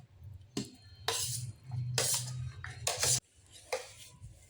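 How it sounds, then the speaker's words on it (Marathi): Cooked vegetables for pav bhaji being mashed in a pot with a metal masher, giving repeated clattering thumps and scrapes against the vessel in a steady rhythm, close and fairly loud with no talking. "हे बघा अशा छान भाज्या मॅश करून घ्यायच्या।"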